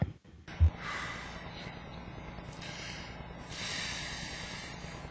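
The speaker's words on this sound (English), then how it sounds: "It sounds like he's having trouble breathing right now." A man breathes laboriously at close range, with a sharp snort near the start followed by faint, rasping, hissing breaths.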